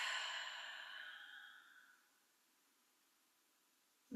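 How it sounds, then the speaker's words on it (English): A long, soft exhalation through the nose during a restorative floor yoga practice, a breathy hiss fading out over about two seconds, followed by near silence. "Take that breath through the nose. And then exhale, release."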